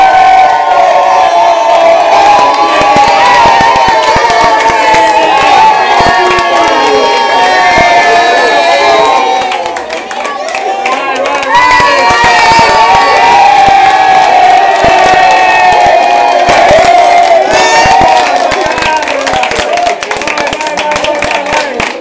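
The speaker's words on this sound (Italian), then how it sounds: "Dentro si sente un entusiasmo pazzesco, con Francesca stiamo per entrare" A loud party crowd cheers, whoops and claps nonstop at the entrance of Villa Borghese in Montecchio di Pesaro, with a brief dip midway before the roar swells again.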